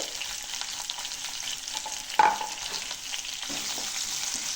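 Onions sizzle and crackle steadily in a hot pan, with a single clank of a utensil partway through as they are stirred.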